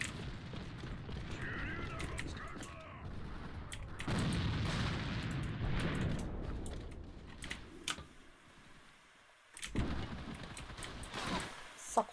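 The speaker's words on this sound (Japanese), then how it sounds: "手榴弾投擲" Grenade explosions and gunfire in the online shooter AVA, heavy booming bursts with sharp metallic clicks, loud and close, with a deep blast near the middle and another burst toward the end.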